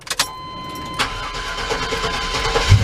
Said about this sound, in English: Now it's better now that the engine's running.